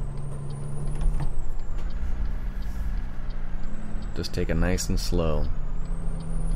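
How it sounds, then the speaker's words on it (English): A simulated truck engine brake in Euro Truck Simulator 2 rumbles steadily and low beneath the engine drone, with someone talking over it and a few whistling tones. "Love the engine brake."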